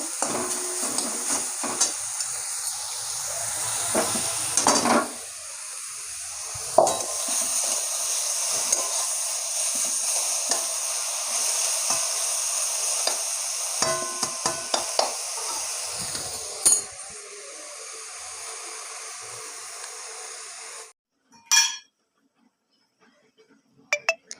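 Drumstick flowers frying in a pan, a constant close sizzle with frequent scraping and clinks of a spatula stirring against the metal, and then the sound cuts off near the end followed by a few short clatters.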